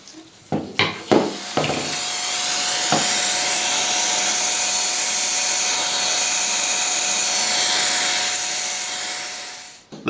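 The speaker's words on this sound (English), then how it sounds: "have a friend or relative ready with a vacuum cleaner with a small nozzle" A vacuum cleaner with a small nozzle runs steadily at close range, a continuous whirring drone that holds for several seconds after a few sharp knocks and clicks at the start, then cuts off.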